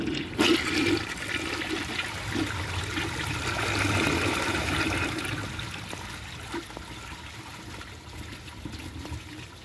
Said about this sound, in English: It's got a nice flush, pretty similar to a Crane New Day